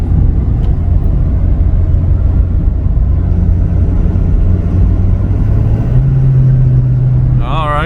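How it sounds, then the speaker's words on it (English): A 2019 Ford F-250 pickup with a 6.7L Powerstroke diesel accelerating under throttle while driving. A loud, steady low engine drone runs throughout, and its pitch rises toward the end. "I want to see what happens when I give it a little throttle, like pretend that you're getting ready to pass somebody"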